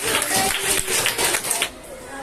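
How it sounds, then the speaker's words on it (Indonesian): Applause for a presenting student group in an Indonesian classroom, a dense burst of many hands clapping for about two seconds before fading, with voices mixed in. "Tepuk tangan buat Bakti Arsanet."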